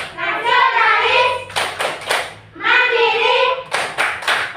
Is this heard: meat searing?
no